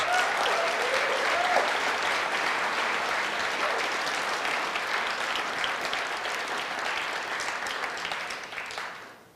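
An audience claps steadily at a public speech about demanding truth from officials, a dense sustained round of applause that slowly fades toward the end, heard alone without talk.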